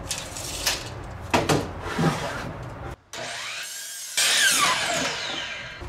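A saw cuts a floor tile to size for stair steps, with a few rough grinding strokes, a brief pause, then a longer steady cutting pass, close and moderately loud, no talking.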